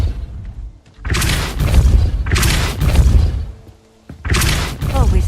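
Depulso spell blasts from Hogwarts Legacy boom out three times, each a loud forceful burst with crashing debris, separated by brief quieter gaps.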